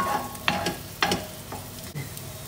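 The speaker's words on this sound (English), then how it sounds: "I'm going to pop in the courgette, give that a mix round." Courgette frying in oil in a pan for spring rolls, a soft continuous sizzle with three or four sharp scraping stirs of a utensil at roughly half-second intervals, close up and alone.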